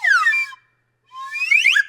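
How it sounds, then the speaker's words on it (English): Two slide whistle sweeps separated by a short silence: the first glides downward, the second rises steeply upward, both bright and close. "a slide whistle because it has a lot of purposes."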